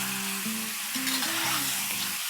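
Chopped green chilies and paste sautéing in a hot pan, a continuous loud sizzle and crackle with soft stirring scrapes, alone without voices.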